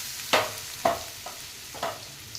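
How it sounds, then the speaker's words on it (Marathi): Fresh grated coconut stirred in ghee in a pan over a low flame, with four soft scraping stirs over a faint, gentle sizzle. "आता जी खोबरं आहे याच्यात मी टाकणार आहे ओलं खोबरं छान परतून घ्यायचं"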